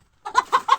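A chicken wandering near a rural Nepali house gives three quick clucks in a row, close by and clear, with nothing else around them.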